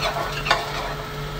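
Onion stir-frying in a little hot oil in a pan, a steady broadband sizzle with a single scrape of the spatula midway, close and continuous.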